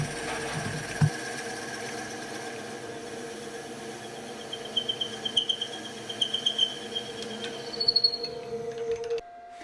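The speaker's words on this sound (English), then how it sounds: "the bit is making contact with the wood before I turn the lathe on" Wood lathe spinning a drill bit into a wooden handle blank, a steady mechanical hum with faint tonal whine, joined midway by a run of light rhythmic ticking and rubbing before it winds down near the end.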